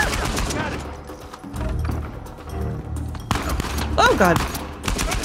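Enemy gunfire in the Uncharted 4 video game, a rattling fusillade of shots and thuds running throughout, mixed under a player's pained exclamations.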